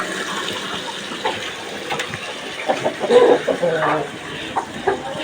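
Chickens cluck and squawk amid busy farmyard noise, with a brief flurry of louder calls midway and faint background activity.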